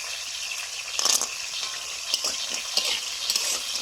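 Masoor dal bori, small sun-dried lentil dumplings, fry and sizzle steadily in hot oil while being stirred, with a few louder crackling bursts over a close, continuous hiss.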